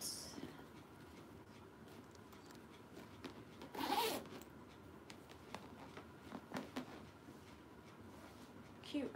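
A zipper pulled on the interior zipper pocket of a purse, one quick, scratchy zip midway through, close and clear amid quiet handling rustles.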